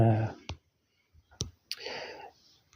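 Mouse clicks while working in the Amazon Kindle app: a few sharp, close, isolated clicks spaced apart, with quiet speech between them.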